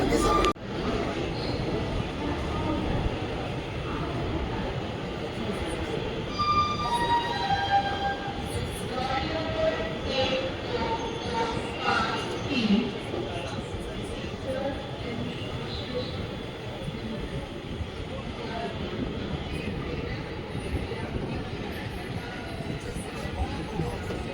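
The Sanghamitra Express stands at platform 7 on the Bangalore–Chennai main line, a steady low rumble of idling train and station noise filling the whole stretch, with faint voices and announcements in the background.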